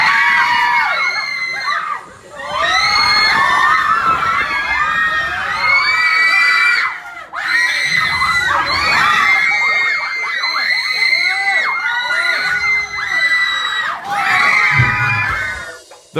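Riders scream, shriek and cheer in a loud, continuous crowd burst on Disney's Hollywood Studios Twilight Zone Tower of Terror drop ride, with brief lulls between waves of yelling.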